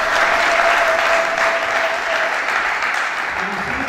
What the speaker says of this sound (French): Est-ce qu'on peut quand même applaudir même pour ça?